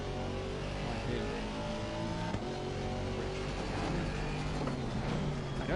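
Race cars circulating at Oulton Park, including a Porsche GT4, with engines droning and revving at a steady, fairly loud level and tyres briefly squealing.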